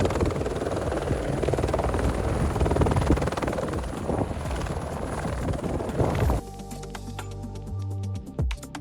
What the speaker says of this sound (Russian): мы ждем, пока приземлится вертолет